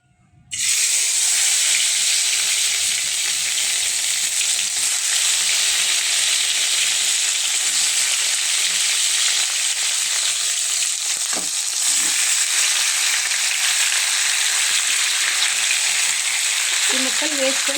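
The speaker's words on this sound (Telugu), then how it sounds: "నేను బాండీలో ఒక 4 స్పూన్ల నూనె పోసుకున్నాను. ఇప్పుడు టమోటా ముక్కలు వేసుకోవాలి." Tomato pieces hit about four spoons of hot oil in a kadai and erupt at once into loud, continuous hissing sizzle that stays strong and even for the whole stretch, with a faint clatter near the end.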